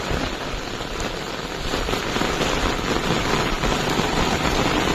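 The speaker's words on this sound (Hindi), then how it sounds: "बहुत बड़ वर्षा पानी आज" Heavy rain pours down in a dense, loud, continuous hiss of drops striking surfaces, steady and unbroken with no voices.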